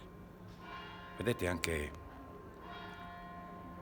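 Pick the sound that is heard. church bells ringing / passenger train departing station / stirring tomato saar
church bells ringing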